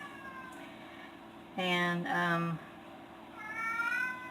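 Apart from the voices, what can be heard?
cat meowing in the background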